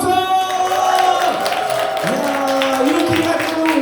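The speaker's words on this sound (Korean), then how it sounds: "다시 한번 박수와 함성!" An audience at a talk concert event claps and cheers, with crowd noise and whoops mixed with steady applause and sustained musical tones playing underneath.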